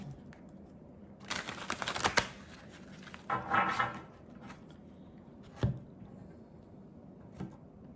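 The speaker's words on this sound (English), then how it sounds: "And they're saying one more shuffle" Tarot cards riffle and slap together in a couple of short shuffling bursts, followed by a few sharp taps, close and fairly quiet with no voices.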